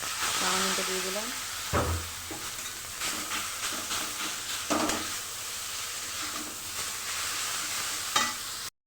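Chow mein noodles fry in a pan, a continuous close sizzle and hiss punctuated by several scraping stirs and clinks of a utensil, with a brief voice near the start.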